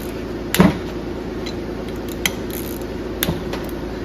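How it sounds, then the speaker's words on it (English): Bolts on a Perfect Converter Co torque converter stator are broken loose with a tool: a few sharp metallic cracks and clicks spread over a few seconds, close and over a steady mechanical hum. "Get the bolts broke loose here."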